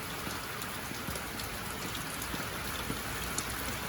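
Steady rain falls on a rural farm during flooding, a dense, even hiss of drops spattering surfaces close by, continuous throughout with no voices.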